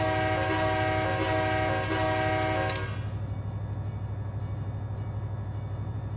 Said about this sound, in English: Just wanted to remember what the horn sounded like.